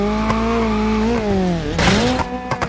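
A car engine drones steadily in a car-crashing video game, its pitch dipping and climbing, then a burst of tire noise and scraping joins near the end, loud and close with no talk.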